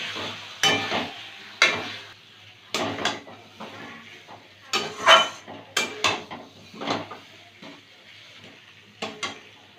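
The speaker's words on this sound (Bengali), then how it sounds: "আঁচটা মিডিয়ামে রেখে খুব ভালো করে কষাবো।" Potatoes for aloo dum are stirred and sautéed in a pan over medium heat, the spoon scraping and knocking in irregular close bursts over a low sizzle.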